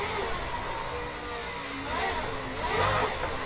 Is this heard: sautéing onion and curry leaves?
no